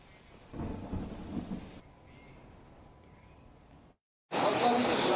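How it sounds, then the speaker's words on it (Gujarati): Heavy monsoon downpour at the end of the Shravan month in Navsari, Gujarat, with thunder: a steady rush of rain that swells and fades, drops to near silence, then returns in a loud burst of broadband roar. "શ્રાવણ મહિનાનો અંત છે અને વરસાદ ધોધમાર વરસી રહ્યો છે"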